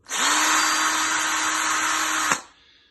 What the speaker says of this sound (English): So if I power this up on full blast now, the end of that drill bit